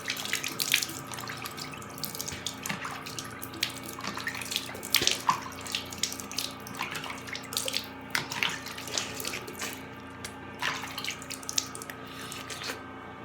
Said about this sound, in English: I'm just going to be washing it off with a cool water